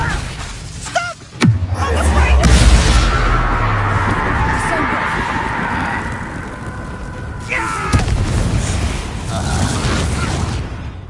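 Incendio fire spell in Hogwarts Legacy: a sharp crack at about 1.5 seconds, then a deep booming whoosh of flame that roars and fades over several seconds, with a second burst near eight seconds and voices speaking over it.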